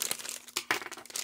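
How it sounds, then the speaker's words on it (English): Plastic packaging crinkles and crackles close by in short irregular bursts, fairly quiet, with no talk. "I'm sorry for this crinkling"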